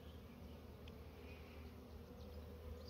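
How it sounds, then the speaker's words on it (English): Baby honey bees buzz in a steady, dense drone close by, a continuous insect hum that holds even and unbroken throughout. "I've got baby bees"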